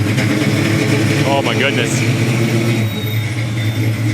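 An old 1956 Ford F100 pickup's engine runs at a steady, throaty idle close by as the truck creeps forward, with people talking briefly over it.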